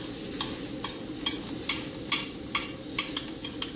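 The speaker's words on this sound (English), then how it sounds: "I'm literally just going to baste it a few times" Butter sizzles hot in a pan while a steak is basted, a steady frying hiss broken by about a dozen quick, regular spoon scrapes and splashes, close and without talk.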